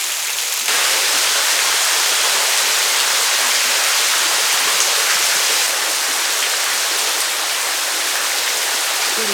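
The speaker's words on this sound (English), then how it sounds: "Creek heading down canyon." A creek rushing down a desert canyon, steady close broadband water noise like a small cascade, continuous and loud with no voices.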